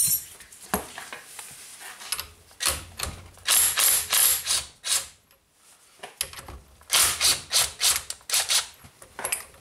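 An adjustable wrench with an 18mm socket ratchets a strut bolt during a strut replacement, giving bursts of rapid metallic clicking in several runs with short pauses between, close and fairly loud.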